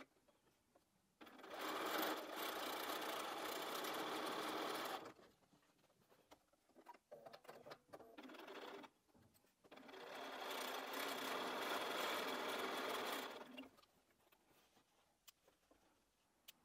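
A sewing machine stitches quilt block pieces for a Jacob's Ladder layer cake quilt, whirring in two steady runs of a few seconds each, close, with quieter handling noises between them.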